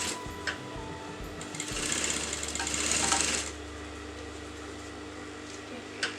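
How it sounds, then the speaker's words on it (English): Sewing machine stitching fabric folded onto canvas for a kameez collar, starting with a few clicks, then a short steady whirring run that stops into quiet hum with a click at the end. "Just fold this fabric on the canvas and just sew that together like this."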